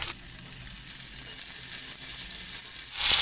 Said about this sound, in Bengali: পেঁয়াজটাকে ভীষণই হালকাই ভাজবো